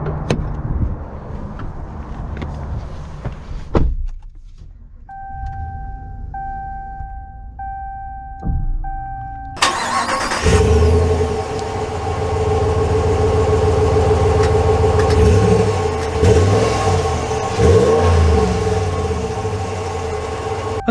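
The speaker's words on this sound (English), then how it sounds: "Let's take it out and see how it drives." A 2022 Ram 1500 Limited 10th Anniversary Edition pickup: a few quiet cabin chimes, then the engine cranks and fires loudly and settles into a steady, close rumble as the truck pulls away, with no talking.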